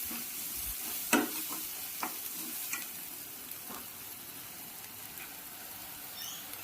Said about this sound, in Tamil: ஸ்டர் பண்ணிகிட்டே இருங்க ஒரு 2 மினிட்ஸ். இப்படி விட்டிங்கன்னா ஆயில் தனியாக பிரிஞ்சு வரும்